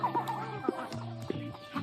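Free-range domestic chickens cluck softly nearby in short, repeated bursts, with a few quiet clucks overlapping against a calm outdoor background.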